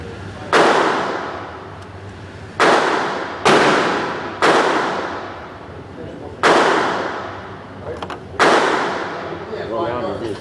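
Glock pistol shots at an outdoor shooting range, about six sharp loud cracks spaced irregularly a second or two apart, each with a short decaying echo.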